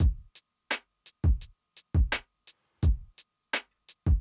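A sparse, laid-back drum groove at 85 beats per minute, with a deep kick, crisp hi-hat ticks and snare hits repeating in a steady loop.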